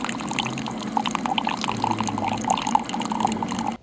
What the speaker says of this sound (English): let's get this Keurig going.